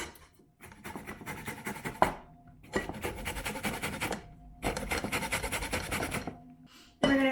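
Lemon being zested for a ricotta and parsley filling, heard as three long bursts of close, steady rasping scrapes with short pauses between them, and no talk.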